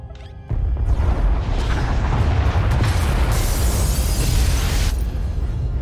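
A massive explosion tears through the pod bays in the video game SWTOR, a sudden loud roaring blast that rumbles and crackles continuously for several seconds before easing slightly.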